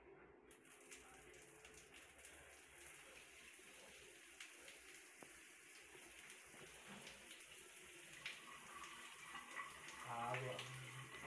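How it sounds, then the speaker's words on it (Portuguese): A shower runs at low pressure, a steady soft hiss of falling water throughout, with faint background sounds and a brief tonal sweep near the end. "A água aqui no chuveiro, ela é assim, nessa velocidade."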